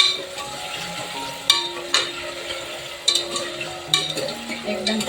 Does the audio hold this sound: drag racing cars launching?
no